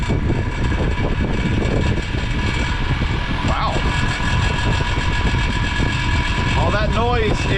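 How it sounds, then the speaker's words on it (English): A Lasko 5210 box fan runs with a constant broadband whoosh and a buzzing, rattling hum from a loose armature, steady throughout, with a brief voice-like sound near the end. "All that noise is the loose armature."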